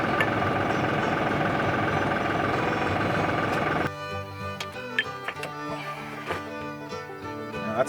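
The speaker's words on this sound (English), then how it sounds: "So I'm gonna shut the tractor off and we'll go clean this up" A tractor engine idles with a loud, steady rumble that cuts off abruptly partway through, leaving quieter clanks and handling noises afterward.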